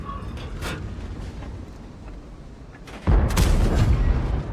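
A tank cannon fires in World of Tanks, a single heavy boom about three seconds in that rolls into a sustained rumble, following a quieter stretch of low battle ambience.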